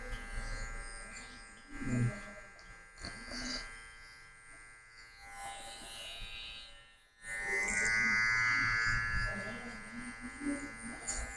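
Hair clippers drone steadily through a taper fade haircut, growing louder and closer partway through, with people talking over the buzz.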